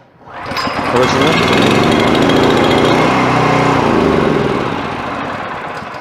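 A recoil-started MB snowblower engine catches after a firm pull and settles into a loud, steady, close-up running roar that holds for several seconds, easing only slightly toward the end.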